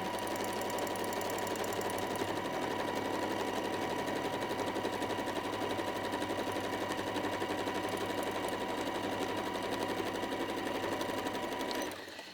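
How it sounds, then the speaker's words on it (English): Embroidery sewing machine stitching a bleachwork floral design, a steady, fast mechanical chatter of rapid repeating needle strokes at constant speed, close and continuous until it winds down at the end. "So we press start and we start stitching."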